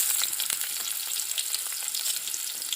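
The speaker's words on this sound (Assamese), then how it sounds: "তেলখিনি গৰম হৈছে, প্ৰথমে আমি পিঁয়াজখিনি দি ল'ম।" Chopped onions sizzling in hot oil for a taro-stem and rohu fish dish, a loud, steady crackling fry with dense spattering close up and no talking.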